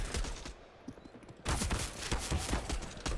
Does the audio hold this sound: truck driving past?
no